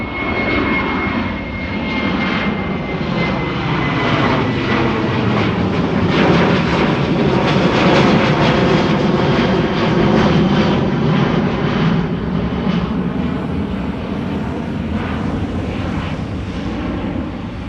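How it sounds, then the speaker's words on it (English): A KLM Boeing 737 bound for Göteborg departs Amsterdam Schiphol, its jet engines roaring loud and close in a steady, sustained rush with a faint whine, the sound slowly shifting as it passes, with no voices. "KLM 737 to Göteborg up next"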